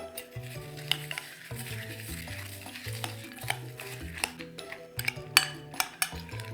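A spoon stirs a ramen cupcake mixture with a spoonful of sugar in a bowl, sending out repeated scraping strokes and sharp clinks against the sides in an uneven rhythm, close up.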